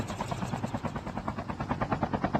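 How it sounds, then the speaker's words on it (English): Helicopter in the mobile shooter Call of Duty: Mobile during a battle royale match, with a steady, fast rotor chop pulsing throughout at close, even loudness and no talk over it. "Back in the helicopter we go."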